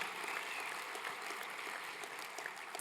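Conference audience applauding a live typist at a closing session, a continuous, fairly even burst of clapping from a crowd heard at some distance for the whole moment.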